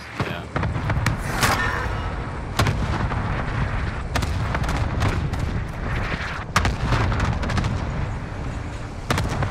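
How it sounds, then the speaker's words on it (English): Cluster strike explosions in a multiplayer shooter video game: a run of sharp, loud booms and blasts scattered through the scene over a dense rumble of game noise, with players' voices chattering and laughing underneath. "Allied cluster strike inbound."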